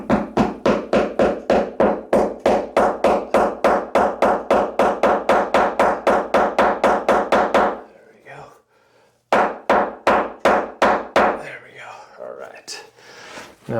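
Rapid, evenly spaced hammer taps drive an anchor into a drilled hole while installing a frameless glass shower door, loud and close, pausing briefly before a second quicker burst of taps.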